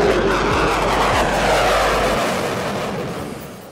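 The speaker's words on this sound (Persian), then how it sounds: "صدایی که از این هواپیما بلند میشه برای سربازها و آدم‌های اون روز" A Lockheed F-22 fighter jet roars past in a loud, sustained engine rush that swells and then slowly fades as it moves away.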